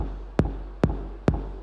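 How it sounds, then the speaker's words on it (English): Three evenly spaced electronic kick drum hits thump at a steady pulse, each a short punchy low-end attack with a quick decay, played alone with no voices. "So in this tune we have a kick drum"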